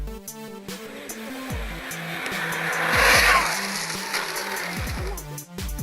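A large radio-controlled model car running on 12 cells of 5,000 mAh drives past at high speed, its electric drive whining and sweeping up and down in pitch, with tire noise and a loud surge near the middle.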